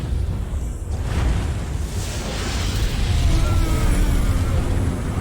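A fuel explosion in the Resident Evil Outbreak video game bursts into a deep, rumbling roar that swells and keeps rolling loudly for several seconds without letting up.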